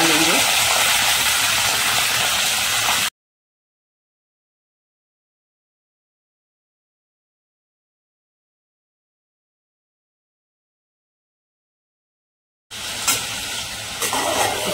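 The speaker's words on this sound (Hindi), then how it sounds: "चिकन को डालकर अच्छे से चला लेंगे।" Chicken stirred into hot oil with black cardamom, cloves and green cardamom for a korma, a close, dense sizzle and scraping for a few seconds, then a long silent gap before the frying sizzle returns briefly.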